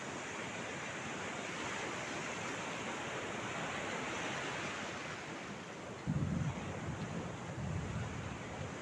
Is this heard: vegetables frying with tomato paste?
no